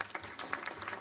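Scattered applause from a small group at a congressional committee organizational meeting, with claps spread loosely across a short burst at moderate volume and no talk over it.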